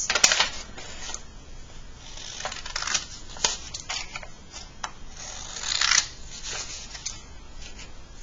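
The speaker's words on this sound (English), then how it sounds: "You're going to open it up and cut at your creases." Scissors cut paper along folded creases for a grade-school fraction kit, making a close, steady run of crisp snips and rustles that sharpen into a few louder cuts, with no voices.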